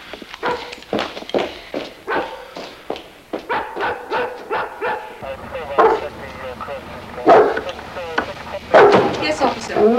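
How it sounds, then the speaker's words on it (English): A dog barks in a rapid series of sharp woofs and yips at a neighbour's home, loud and close, with people talking over and between the barks. "Your dog is creating a disturbance."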